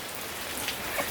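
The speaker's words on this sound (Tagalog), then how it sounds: "Grabe ulan." Heavy rain pours steadily at a waterfall, a dense hiss with a couple of brief splashes, close and continuous with no voices.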